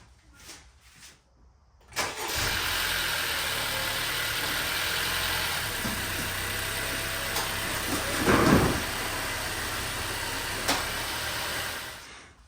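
Car engine cranking and catching after a service, then settling into a steady close idle with a brief rev-like swell midway; a couple of faint clunks come before the start.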